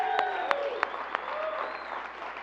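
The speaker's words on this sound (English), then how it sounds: "We can give a round of applause for Jamie," A crowd claps for an executive director at a leadership talk, applause running under a few sharp, louder individual claps near the start, with faint tonal sounds and murmuring in the room.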